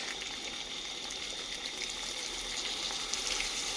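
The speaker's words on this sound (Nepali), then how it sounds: "चलाइसकेपछि चाहिँ त्यहाँदेखि हल्का पानी हालिदिनुहोस् कम्ती" Tomatoes fry in a pan with a little water added, giving a steady, close hiss and sizzle that holds evenly throughout with no talking.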